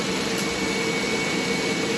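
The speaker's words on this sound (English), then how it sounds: "having a little robot vac that I got for free on the Buy Nothing group really comes in handy" A small robot vacuum cleaner runs steadily around a home, giving off a continuous, even whirring hum with a faint high whine that holds for the whole stretch, close by and without any talk.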